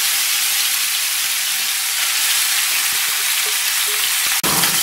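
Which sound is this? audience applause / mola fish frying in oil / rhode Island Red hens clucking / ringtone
mola fish frying in oil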